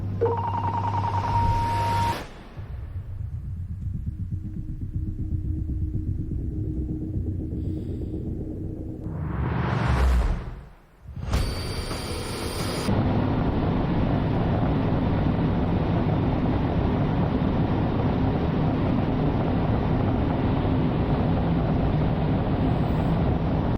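A Rimac Nevara electric hypercar accelerates hard at full throttle, its broadband road and wind roar swelling loud and steady after a brief dip, with a high electric whine in places.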